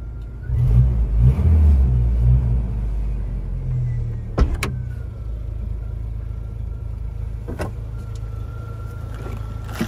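A 1997 Jeep Wrangler Sport 2.5i petrol engine cranks and starts, then settles into a steady low idle rumble, close by, with a brief mechanical whine partway through.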